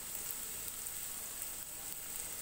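Nigella seeds hit hot oil in a pan of softening pumpkin with garlic and onion, giving a loud, steady, hissing sizzle that holds without a break from start to finish.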